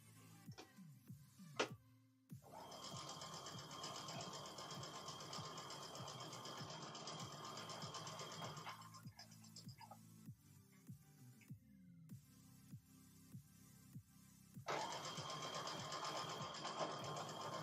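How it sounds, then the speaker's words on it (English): A sewing machine stitches fabric strips up close, running in long steady whirring runs broken by pauses and small clicks and thumps as the fabric is handled. "I don't sew very fast"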